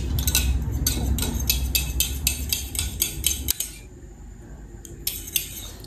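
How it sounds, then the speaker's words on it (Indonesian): Rapid metal-on-bowl clinking of an egg and milk mixture being whisked, a steady quick rhythm close by for a few seconds, then pausing before a few more light taps. "Kocok."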